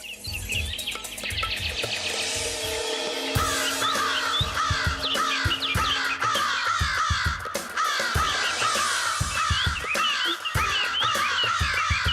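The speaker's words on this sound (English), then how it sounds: "And the crows were very happy." Several crows caw repeatedly at close range in harsh, overlapping bursts, while other birds chirp and tweet in the background throughout.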